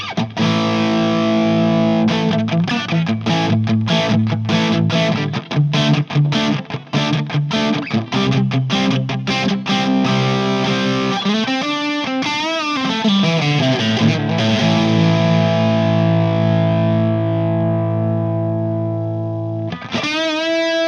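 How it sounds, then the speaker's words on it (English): An electric guitar runs through a Two Notes ReVolt amp pedal with the gain all the way up. Fast, heavily distorted palm-muted chugging gives way to a long ringing chord with a pitch-bend swell, then a final sharp stab. "let's see how this sounds with the gain cranked all the way up."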